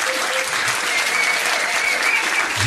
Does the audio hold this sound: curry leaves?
no